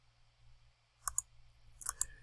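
A computer mouse clicks the browser back arrow, giving two quick pairs of crisp, close clicks over a faint background hum.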